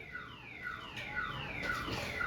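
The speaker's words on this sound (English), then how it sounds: "Take off that alarm now, boy." A car alarm goes off indoors, sounding a repeating electronic siren of sweeping tones that rise and fall in a steady cycle, heard alone at moderate volume.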